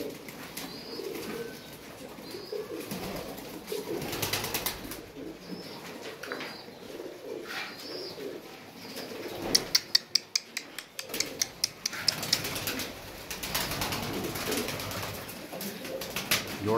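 Royal Teddy pigeons cooing softly in a loft, low repeated coos amid rustling and a burst of quick wing flaps or clatter midway, close and moderately quiet.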